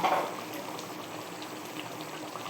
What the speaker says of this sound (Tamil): நல்லா அழகாக கொதித்து வந்துருச்சு